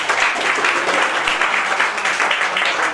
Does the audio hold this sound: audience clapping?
yes